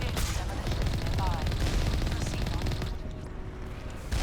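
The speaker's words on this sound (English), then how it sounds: "Try to take out as many of the turrets as we can with our main gun" Main gun blind-firing at turrets in the video game Mass Effect, a loud continuous barrage of rapid bursts and booms that thins out toward the end.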